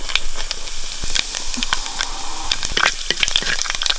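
Mustard seeds crackle and pop in hot oil for a Kerala bitter melon curry, a steady frying hiss broken by sharp, irregular sputters close by.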